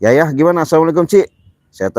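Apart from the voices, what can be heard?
No everyday noise stands out behind the speech.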